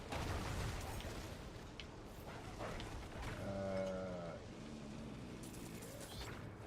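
A goat in the Diablo 4 video game lets out one drawn-out, wavering bleat partway through, set against dense, steady game ambience and effects.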